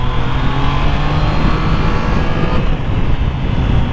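A Triumph Trident 660 three-cylinder motorcycle engine drones loud and steady while riding, mixed with rushing wind noise, continuous throughout with no voices.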